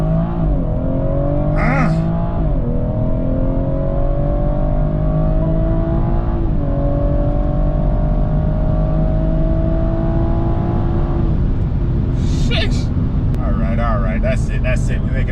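A BMW 440i xDrive Gran Coupe launching hard with launch control, its engine roaring loudly and continuously as it accelerates, pitch climbing through the gears with brief shift dips.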